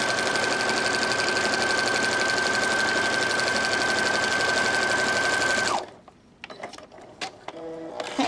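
A sewing machine quilts a potholder in a fast, steady mechanical whir for several seconds, then stops abruptly, followed by a few scattered clicks and handling taps.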